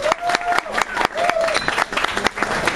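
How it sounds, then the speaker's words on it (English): A comedy club audience set up in a downtown restaurant applauds, with sharp, loud individual claps standing out over a crowd wash, while a voice speaks over the clapping. "I think we should give him a round of applause."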